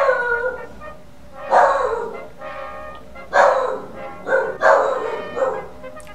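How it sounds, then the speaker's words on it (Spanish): A dog barks in a few loud bursts, roughly every second or two, close by and mixed in with a person talking in Spanish. "el perro empezó a ladrar"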